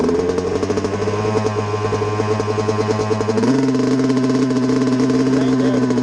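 A race vehicle engine idles steadily and loud without stalling, holding a rough, even drone that rises slightly in pitch partway through, with no voices over it.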